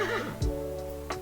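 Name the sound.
horse neighing, played recording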